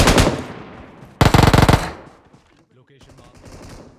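Rapid automatic gunfire in the BGMI mobile battle game, a short loud burst of shots after an earlier blast, followed by quieter in-game sounds.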